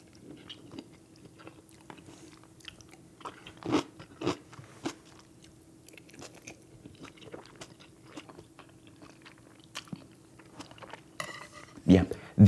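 Close-up eating of a Korean breakfast with kimchi, rice, omelette and sausage: scattered crunchy bites and soft wet chewing sounds, quiet and intermittent, with a faint steady hum beneath.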